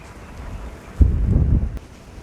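Wind gusts outdoors at a hillside restaurant and coffee shop, low rumbling buffets hitting the microphone in a strong burst at mid-clip before easing.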